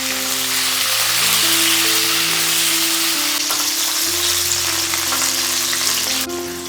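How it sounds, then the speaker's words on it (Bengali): Cauliflower pieces fry in hot oil left over from frying fish for a Bengali fish curry, giving a loud, steady, dense sizzle that runs unbroken from start to finish with no talking. "এবার ওই তেলেতেই ফুলকপিটা ভেজে নেব।"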